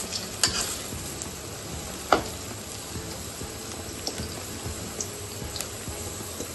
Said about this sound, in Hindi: बढ़िया से तल के निकाल लेंगे इसको।